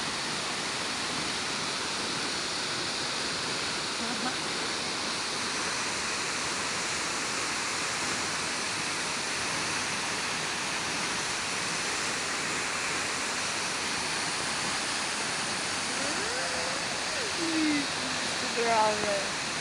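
Hinulogan Falls pouring down from above, a constant roaring wash of falling water filling the whole stretch, with a brief voice or bird-like sweep near the end.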